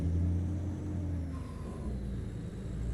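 Truck engine in Euro Truck Simulator 2, a steady low diesel rumble and drone with a faint passing whine, continuous and moderately loud, no voices over it.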